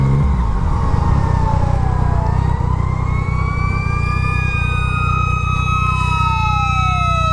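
A fire truck siren wails past over a motorcycle engine's steady low rumble, loud and close, its pitch sliding as it goes by with a horn-like tone, no talking.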